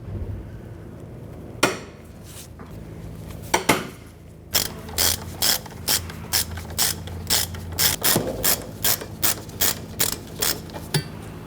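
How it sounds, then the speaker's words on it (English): Breaker bar working loose tight, rusty 18mm brake caliper bracket bolts on a 1999-2004 Jeep Grand Cherokee, giving a few sharp cracks and then a steady run of rapid metallic ratcheting clicks, close and clear with no talk. "In our case here, we're using a bar because it's pretty tight and rusty."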